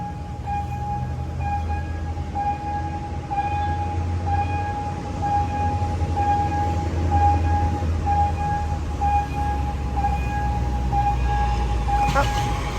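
A freight train passes a railway crossing on Si Ayutthaya Road in Bangkok: a steady low rumble persists throughout, with a continuous ringing tone from the crossing signal on top.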